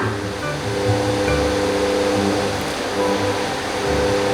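Water coming to a boil in a pot for blanching mushrooms, a continuous loud rolling bubble and roar with no pauses, close up and without talk.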